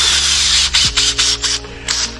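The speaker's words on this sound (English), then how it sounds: "like a little brush attachment for your drill" A cordless drill with a brush attachment scrubs car fabric upholstery, whirring in short bursts with a pitch drop and a rhythmic brushing scrub, loud and close.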